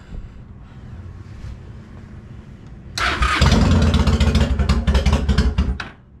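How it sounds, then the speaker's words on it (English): Honda Shadow 750 motorcycle engine starting up after quiet wind noise, then idling loud and close with a rough, throbbing rumble for several seconds. "we're going to go ahead and warm our bike up a little bit"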